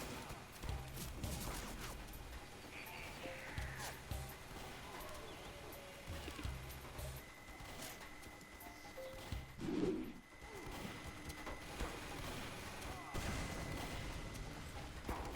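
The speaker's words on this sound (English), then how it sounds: "They're shooting." Computer-controlled bots fire guns in the Team Fortress 2 video game, with repeated distant gunfire and crackling shots scattered through a busy, continuous game soundscape.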